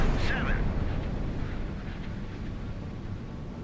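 VLS missile launch from the warship Barcelona in the naval game Sea Power, a loud rushing roar with a brief rising whoosh at the start that fades into a sustained rumble.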